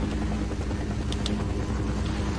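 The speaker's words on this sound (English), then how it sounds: "The helicopter is so noisy." Helicopter noise in the Half-Life video game, a steady dense rotor rumble holding at the same loud level throughout with no pauses.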